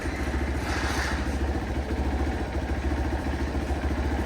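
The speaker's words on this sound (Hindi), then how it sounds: "आराम से निकालियो बाइक" A motorcycle engine idles with a steady low chugging pulse as the bike is wheeled out, continuous and fairly close throughout.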